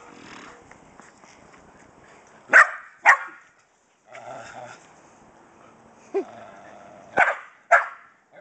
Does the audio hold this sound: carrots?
no